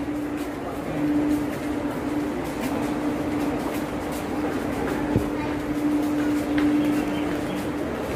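Train 16732 sits at Thirumangalam railway station with a low, steady rumble and a faint hum, heard from a station overbridge, continuous and moderately distant, with no voices.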